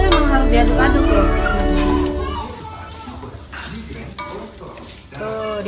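Small anchovies for an Acehnese dish fry in a pan while being stirred, giving a constant sizzle with scraping stir strokes, and a voice speaks over the cooking.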